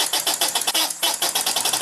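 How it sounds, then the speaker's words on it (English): A small model steam engine with centrifugal governor runs with a quick, regular barking exhaust, close and loud, each puff sharp and evenly spaced like a big old Case steam engine. "it's almost barking a little bit, like a big old case steam engine"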